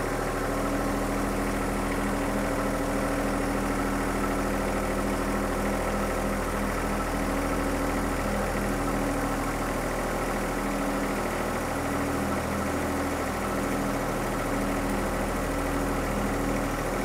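Two John Deere 120R compact tractors, one with an MSL loader and one with an NSL loader, idle side by side, a steady, loud, low diesel drone with a throbbing engine pulse that holds for the whole stretch, no speech.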